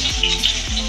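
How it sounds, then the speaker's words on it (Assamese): Pointed gourd (potol) frying in a pan for a home-cooked lunch, giving a steady, close sizzle that fills the short stretch with no voices over it. "এইটো পটল ভাজি আছোঁ,"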